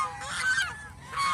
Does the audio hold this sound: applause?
no